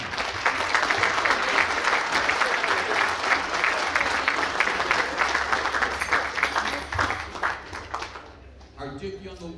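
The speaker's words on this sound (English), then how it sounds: "Please, applause for all of them." Guests at a baseball scouts' Hot Stove League dinner applaud loudly for several seconds, the clapping thinning and fading out near the end as a voice begins over it.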